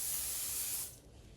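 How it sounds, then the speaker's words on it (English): A single sustained hiss of spray onto the back of a stencil, close and fairly quiet, lasting under a second before cutting off to near silence. "So I like to spray the back side of the stencil"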